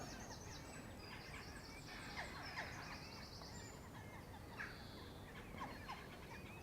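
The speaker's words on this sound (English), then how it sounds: "A lot of birds about." A busy chorus of bird calls and chattering carries from trees across a road near a fishing lake, over a steady outdoor background, with no one talking.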